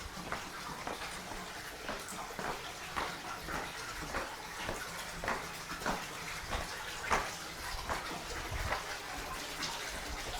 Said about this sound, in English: You're met with this little water feature down here